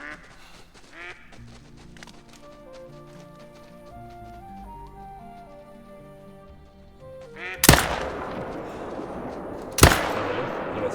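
Two loud gunshots ring out in the hunting game The Hunter: Call of the Wild, fired at a red deer; calm game background and music come first, then each sharp blast cracks with a decaying echo.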